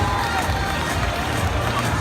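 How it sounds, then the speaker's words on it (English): Audience applause at the Crufts 2018 dog show as puppies from the GCDS puppy foundation display leave the ring: a steady, dense wash of clapping from a large crowd indoors, continuous and fairly loud throughout. "please keep the applause going as the puppies leave the ring"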